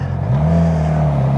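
A supersport motorcycle engine revs up and holds at a steady, loud drone, its pitch climbing briefly then sustaining close by with no talk.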